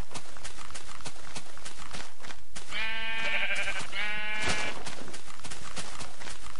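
Sheep in the video game Minecraft bleat loudly twice in close succession, a wavering nasal call over busy game sounds and footsteps.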